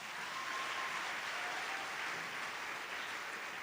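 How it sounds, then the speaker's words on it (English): Steady, dense applause from a college gathering audience, even in level throughout with no voices standing out. "Let's give him a round of applause."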